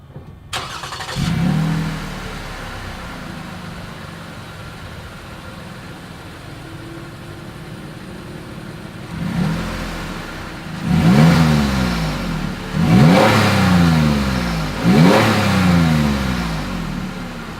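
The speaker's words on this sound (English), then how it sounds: "As always, here is that exhaust clip." A 2020 Lexus RX 350 F Sport engine turns over and idles quietly, then the exhaust revs sharply three times in quick succession, loud and close.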